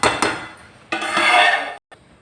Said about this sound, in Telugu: మళ్ళీ మూత పెట్టుకుందాం.